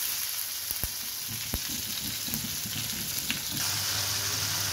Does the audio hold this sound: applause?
no